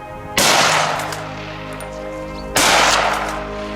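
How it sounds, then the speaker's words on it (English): Two loud gunshots fired at a charging wild boar fleeing through a narrow gap toward a field, each blast sharp and close with a long echoing decay, spaced about two seconds apart, no voices. "The final shot rang out, ending the high-stakes pursuit."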